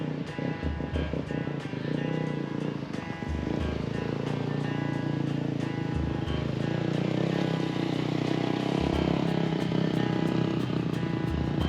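Off-road motorcycles with two-stroke and four-stroke engines idle and rev together at an OHV riding area in the morning, a dense continuous engine drone with repeated low throttle pulses, fairly close and steady throughout.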